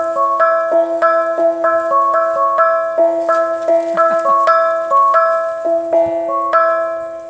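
A street snack vendor's set of three gongs struck as a signal from a wheeled snack cart, ringing bright metallic tones in a repeating melodic pattern, clear and close, with light outdoor background noise.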